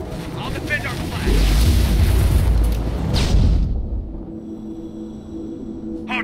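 A generator explosion in the Tribes Ascend video game, heard as a deep rumbling boom that swells for a few seconds under game noise and a spoken voice, then cuts off to a quiet hum.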